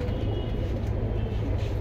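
Pigeons kept for sale coo steadily and close by, a low continuous rumbling murmur with no talk over it.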